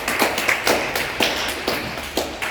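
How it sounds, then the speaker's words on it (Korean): A church congregation in Vienna claps at a Sunday service, with a scattered, uneven patter of hands about five or six quick bursts, fairly close and loud, with no talk over it. "박수 한번 보내주시기 바랍니다."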